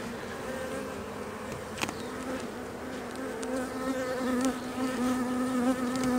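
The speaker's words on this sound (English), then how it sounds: "So those bees didn't get too upset" Honeybees buzz steadily in an open hive during queen-rearing work, a dense close drone with individual bees flying past near the listener.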